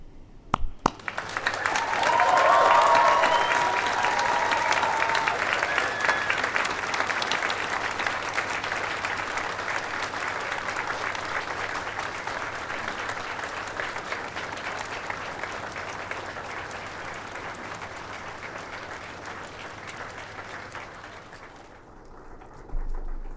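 Sustained applause from a large audience fills a university graduation ceremony at the University of Aberdeen, starting strongly, then holding steady as a dense wash of clapping before trailing off near the end.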